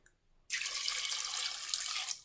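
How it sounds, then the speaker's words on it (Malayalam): Water pours into a pressure cooker holding jackfruit seeds with turmeric powder and two green chillies; a steady, close splashing stream starts abruptly after a brief quiet moment and runs for nearly two seconds, with no voices. "ഇനി ആവശ്യത്തിനുള്ള വെള്ളം ഒഴിച്ചു കൊടുക്കാം."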